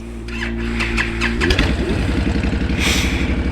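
A 2010 Honda Fury motorcycle engine is started close by: a brief starter whir, then the engine catches and settles into a loud, throbbing, lumpy idle, with a light rev near the end.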